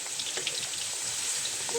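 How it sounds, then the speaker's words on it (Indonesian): Chopped garlic sautés in hot oil with a soft, even hiss and faint scattered crackles, close and steady throughout. "Nah, ini minyak udah panas, langsung aja kita masukkan bawang putih yang udah dicincang."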